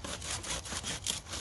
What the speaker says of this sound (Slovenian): Zato žagaj.